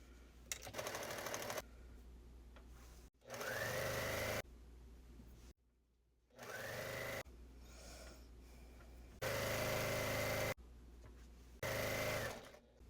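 Sewing machine stitching a pumpkin trick-or-treat bag liner, running in several short bursts of steady mechanical whirring separated by brief pauses, close and fairly loud with no talking.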